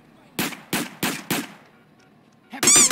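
A TMP machine pistol fires in GTA San Andreas Definitive Edition: four sharp, evenly spaced shots, a short pause, then a quicker cluster of shots. The shots are loud and close, with no talk.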